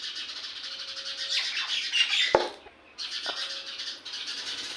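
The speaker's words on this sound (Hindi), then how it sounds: "अब ये चिड़ियाँ देखो कितना झगड़ा कर रही है" House sparrows squabbling in a garden, loud rapid chirping and squawking from several birds close by, with a sharp knock and a brief lull midway before the chatter resumes.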